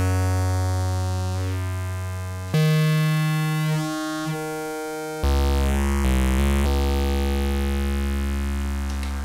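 An Arturia MicroFreak synthesizer on its Wave Shaper oscillator, with cutoff up and resonance down, plays a few sustained buzzy, harmonically rich notes that change pitch and timbre in distinct steps, loud and alone.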